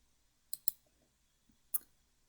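A few sharp computer mouse clicks on a quiet desk, a close double click followed by a single click a moment later, crisp and near, with no talking.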